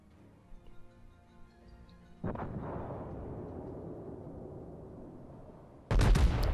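Heavy naval guns of the battleship Iowa in World of Warships fire in two loud booming salvos, the first rolling on for several seconds and the second sharper and louder near the end, with no talk over them.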